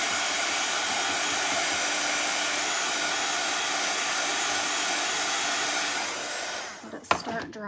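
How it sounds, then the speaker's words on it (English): A hair dryer blows a steady, loud, broad rush of air onto a Santa gnome craft piece for about seven seconds, then cuts off, followed by a few handling clunks. "I do gotta hit this with the dryer in a minute"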